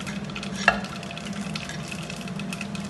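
Mustard seeds, urad dal, chana dal and fennel frying in hot oil for hotel-style poori masala, a steady close sizzle and crackle with one sharp pop and faint stirring.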